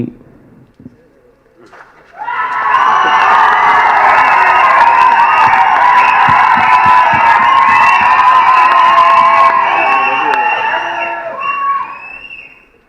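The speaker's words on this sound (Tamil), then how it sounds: "பேரை சொல்லாமலே இவ்வளோ கைத்தட்டலாம்" Loud, sustained applause and cheering from a large audience at a film event, rising abruptly after a quiet start and holding steady for about ten seconds before tapering off.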